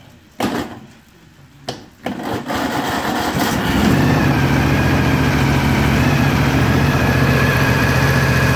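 An 18hp Briggs and Stratton Vanguard engine cranks with a couple of sharp bursts, then catches and settles into a loud, steady running drone up close.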